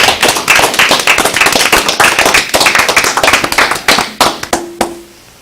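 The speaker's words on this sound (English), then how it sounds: "I'd like to stand up and clap at these guys" People clapping at a county commissioners meeting in Alleghany County, a loud, close, dense round of many hands that thins into a few scattered final claps and stops.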